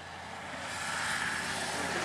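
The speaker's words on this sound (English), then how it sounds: "That helicopter brought in a fellow investigator?" Helicopter flying overhead near a highway scene where investigators are gathered, a steady broadband rotor and engine roar that swells slightly louder over two seconds, continuous with no voices.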